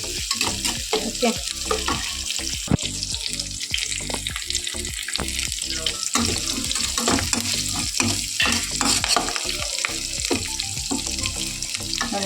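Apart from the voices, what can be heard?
frying and stirring chapati dough recipe mixture in a pan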